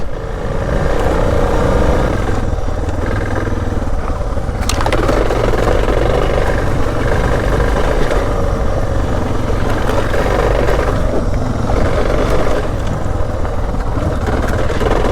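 A motorcycle engine drones steadily throughout, loud and close, with the rumble rising and falling slightly as the bike keeps moving.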